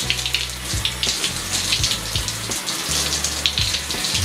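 Water runs steadily from a tap during rinsing in a personal hygiene wash, a continuous splashing hiss with faint low pulses, close and moderately loud, with no talking.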